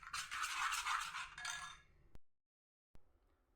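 Two spoons of ragi flour mixed with water are stirred briskly in a small vessel, a close scratchy scraping for about two seconds, then a couple of isolated light clinks.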